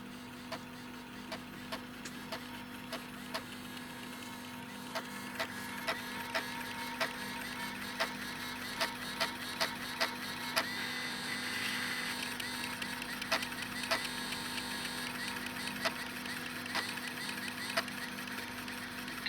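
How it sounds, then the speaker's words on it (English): An aging Toshiba T1950CT 486 laptop hard drive struggling during a full format, giving a constant hum with irregular clicks and ticks, close and fairly quiet, no speech. "Oh, that drive does not sound happy."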